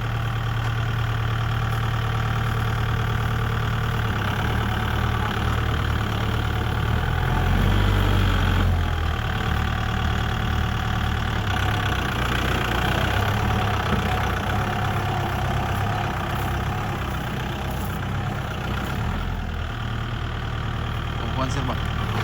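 A bulldozer engine running under test, a steady low idling rumble with slight rises in revs, heard close and continuous while people talk in the background.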